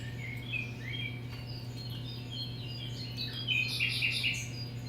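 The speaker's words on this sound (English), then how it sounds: "all those birds you hear in the background, that's my private rainforest" Distant birds chirp and twitter faintly over a steady electrical hum in a workshop during a Yamaha NS-A3500 speaker foam surround repair, the calls growing busier toward the end.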